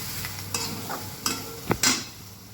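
A mixture with crushed peanuts being stirred in a pan, several distinct scraping strokes of a spoon over a low background sizzle, close and without speech.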